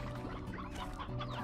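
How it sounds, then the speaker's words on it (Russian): Chickens cluck in a steady, busy chatter in the Slime Rancher 2 video game, several birds close by over a low background hum. "Пацаны, вот там курочка."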